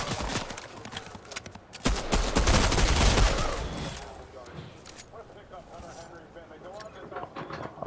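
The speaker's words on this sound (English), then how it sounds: "somebody's shooting at you." Gunfire in an online shooter video game, bursts of rapid shots with a loud dense volley near the middle, mixed with game sounds while players talk over it.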